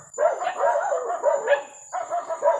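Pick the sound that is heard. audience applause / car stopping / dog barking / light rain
dog barking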